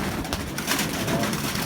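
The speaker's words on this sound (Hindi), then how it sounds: "ये देखें ना आप ओरिजिनल जो आपको फ़कीर गुल कबूतर अभी दिखा रहे हैं" A Fakir Gul pigeon coos close by, soft repeated throaty calls over a steady background hum.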